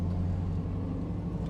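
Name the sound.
1990 GMC Jimmy K5 Blazer engine and exhaust tone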